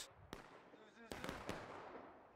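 Sharp musket shots crack out in the American Civil War game War of Rights: one shot, a short pause, then a quick cluster of three or four, with people talking faintly underneath.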